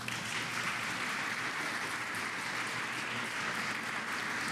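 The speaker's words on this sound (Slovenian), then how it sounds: "Prav tako glasen aplavz" Steady, dense applause from an audience at a Slovenian business roundtable event, continuous and fairly loud throughout without pauses, no talking over it.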